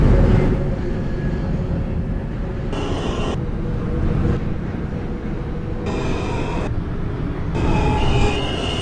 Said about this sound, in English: This is a Manhattan-bound J. Skip Stop train.